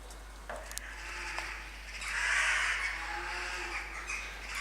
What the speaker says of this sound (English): Quite a few jackdaws and a couple of greyback crows.